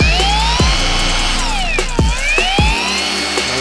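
A Popoman cordless brush polisher runs on a waxed car, its motor whining steadily with rising and falling pitch sweeps and a few soft knocks, loud and close with no talk.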